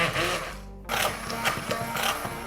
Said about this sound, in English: I'm gonna use, in this case, a bar mix, a stick mixer.